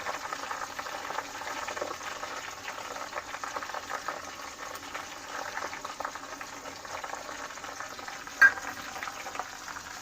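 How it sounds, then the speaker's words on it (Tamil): Garlic and neem leaves frying in a pan, giving a steady soft sizzling crackle throughout with one brief sharper click near the end. "இது கொஞ்சம் ஃப்ரை ஆகட்டும்."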